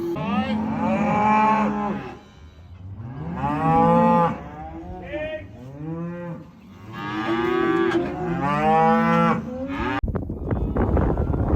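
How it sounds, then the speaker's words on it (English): Several loud, drawn-out moos from cows and calves being moved overlap and follow one another close by, with a rustling noise at the very end. "we're bringing the cows and calves over here"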